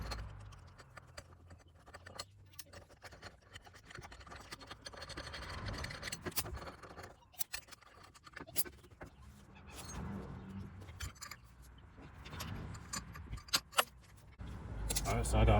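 Bolts being fitted and tightened on the front end of a 2014 Nissan Maxima during reassembly, with close metallic clinking, scraping and rattling of hardware and tools continuing throughout, plus occasional louder knocks.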